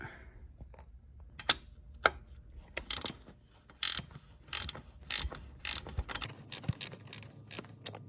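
Rapid, close ratchet clicking in short bursts while a bolt is loosened from the center console of a Porsche 986 Boxster, the turns growing more frequent and louder toward the end.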